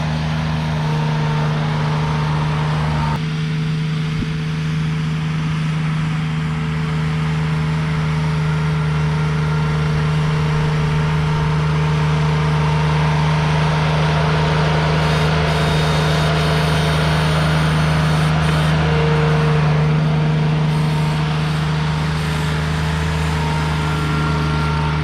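A Ventrac compact tractor runs steadily nearby while moving and dumping excess dirt on a drain-tile job, its engine a loud, constant hum with small shifts in load and no one talking.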